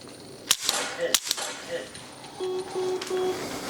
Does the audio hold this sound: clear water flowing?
no